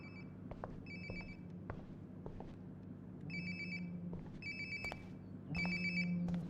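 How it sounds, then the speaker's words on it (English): A cell phone rings in Life is Strange: Before the Storm, repeated electronic ringtone bursts in a regular pattern over a low steady hum, moderately close. "Sounds like my phone is definitely nearby."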